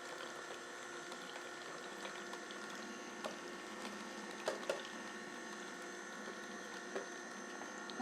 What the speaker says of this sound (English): I just feed it back in just to get a little bit more juice